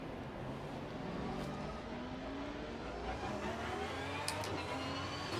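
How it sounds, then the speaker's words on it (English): Race car engine in Assetto Corsa Competizione, a steady droning note that climbs gradually in pitch as the car accelerates, with no voices. "This car sounds amazing, though, I'll say that."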